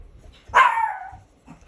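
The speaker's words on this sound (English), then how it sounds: "about the dog barking." A single sharp dog bark rings out close by indoors, followed by a faint, brief trailing yip, with quiet room tone around it.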